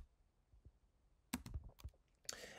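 A few sparse, quiet computer keyboard key presses, close by, with a short cluster of clicks midway and another near the end.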